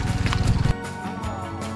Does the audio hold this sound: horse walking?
yes